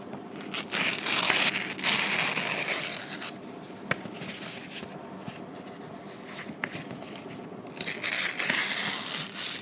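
Paper is ripped and cut up with large scissors, giving close, crisp tearing, crinkling and snipping sounds in bursts, with a quieter stretch in the middle.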